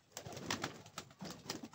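Pigeons coo softly inside a loft, with several low repeated calls in a gentle rhythm, faint and fairly close.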